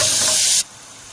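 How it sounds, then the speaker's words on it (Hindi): Butter dropped into a hot frying pan gives a loud, steady hiss that cuts off sharply after about half a second, leaving only a faint background hush. "अब इस फ्राई पैन में हमें इस तरीके से ये बटर डालना है।"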